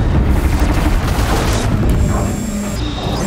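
A corrupted Thunderjaw machine fighting in Horizon Zero Dawn: continuous heavy booming and crashing with rapid bursts of fire and metallic tones, loud and dense throughout.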